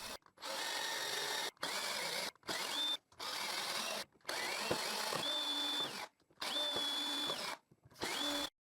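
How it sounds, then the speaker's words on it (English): A drill press whirs in repeated bursts, each run of the motor separated by short silences, with a high whine as the bit bites. "it would be better to use the drill press"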